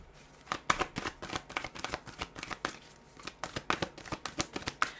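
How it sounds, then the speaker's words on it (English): Tarot cards are shuffled close up in a quick run of crisp riffles and snaps. The rhythm is uneven and there is no talk. "So I'm going to keep shuffling until we get doubles"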